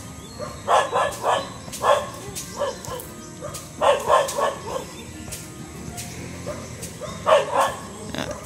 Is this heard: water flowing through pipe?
no